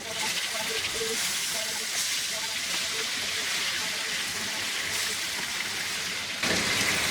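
Chicken fries in oil in an open pan over medium-high heat, a steady, dense sizzling hiss that fills the whole stretch without a break, close and even in level.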